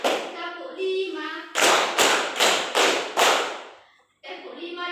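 Children clap their hands in a counted rhythm, five sharp, evenly spaced claps in a row, loud and close, with a teacher's voice talking just before and after.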